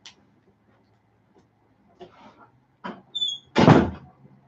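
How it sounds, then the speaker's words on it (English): An indoor door closes with a few soft creaks and shuffles, then a short squeak and a firm final thud near the microphone in a quiet room. "I'm just going to shut the door"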